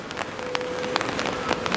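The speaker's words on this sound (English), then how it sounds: "if it's a little rain like this ain't so bad" Light rain falls on a street in Fukuoka, Japan, making a steady close patter with scattered sharper drops, and a faint thin tone runs briefly through it.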